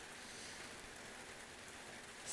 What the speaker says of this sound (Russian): Прошу прощения, конечно, если дождь.